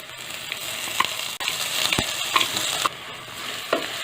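Onion and spice paste sizzles steadily in a hot pan while it is stirred, with scraping clicks and soft knocks of the spoon over constant frying hiss. No one speaks.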